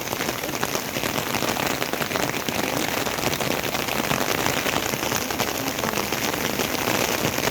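Rain falling on a garden in a dense, steady patter with fine crackling drops, continuous and fairly close throughout, with no clear talk.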